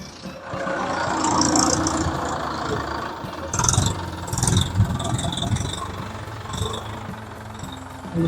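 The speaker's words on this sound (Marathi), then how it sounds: "इथे ट्रॅक्टर उतरला" On a muddy farm, a tractor engine runs nearby, rumbling steadily and rising and falling in loudness, with voices heard now and then over it.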